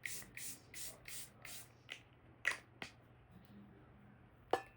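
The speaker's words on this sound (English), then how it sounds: "I'm going to set my face with setting spray." Makeup setting spray misted onto the face from a pump bottle, a string of short, soft spritzes in quick succession followed by a few more spaced bursts, close and fairly quiet.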